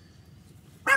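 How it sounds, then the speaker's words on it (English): A dog at a campsite gives a single short bark at the very end, sharp and close after near silence. "That's Luna barking."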